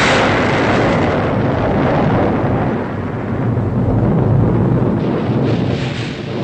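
A loud cartoon bomb explosion from a Disney-style animated pirate adventure, a sustained roaring blast with rumbling debris that stays heavy and dense for several seconds, dipping briefly midway before swelling again.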